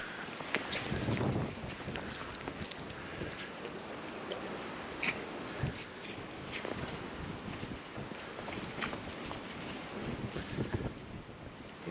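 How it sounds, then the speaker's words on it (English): Wind blows outdoors on a dark snowy night after a snowfall, a steady rushing gust buffeting close to the microphone, with scattered rustles and soft thumps like footsteps in snow beneath it. "And it's a little windy."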